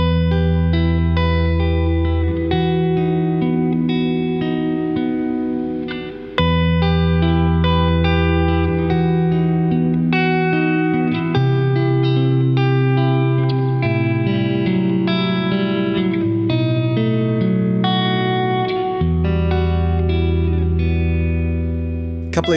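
An electric guitar plays chords and single notes through a 1987 Boss RV-2 digital reverb pedal, the sustained tones ringing out with a spacious, echoing tail.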